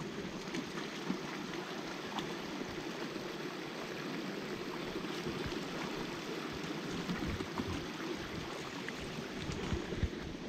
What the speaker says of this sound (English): let's go across the creek